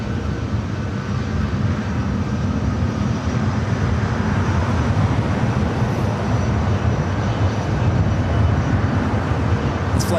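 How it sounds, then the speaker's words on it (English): A Delta Airbus A319 airliner touching down on runway 24 right, heard as a steady, loud, broadband jet roar that stays constant without clear peaks, with no talk. "Delta A319 touching down at 24 right"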